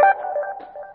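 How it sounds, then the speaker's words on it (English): A mobile phone alert chimes on its own, a steady electronic tone with a brief sharper onset that holds for about a second and fades slightly toward the end. "sorry about that. That was my phone."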